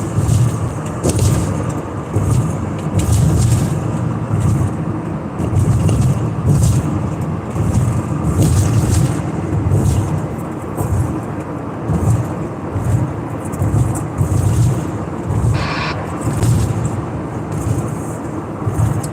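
A van cruises on a highway at about 62 mph, its steady engine drone and road roar droning loud and continuous with slight rhythmic swells, no voices.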